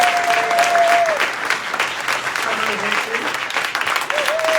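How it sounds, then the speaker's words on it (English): Audience applause at a sheriff's swearing-in ceremony, steady, dense clapping filling the room, with a voice announcing names over it. "And yes, please applaud."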